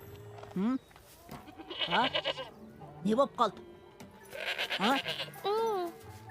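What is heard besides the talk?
goat bleating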